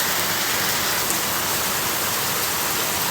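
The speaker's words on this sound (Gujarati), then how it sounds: "ધોધમાર વરસાદ ચાલુ થઈ ગયો છે." Heavy monsoon downpour pours down outdoors with a dense, constant roar of rain hitting surfaces, loud and unbroken throughout, with no voices.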